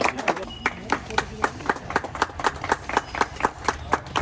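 Audience clapping at a blood donation camp held with and for the army, a steady rhythmic beat of claps repeating about every half second over a murmuring crowd with voices underneath.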